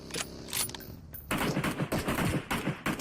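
Automatic gunfire from a PUBG battle royale match crackles in sharp bursts of rapid shots, with a short volley, a pause, then a longer loud string of fire.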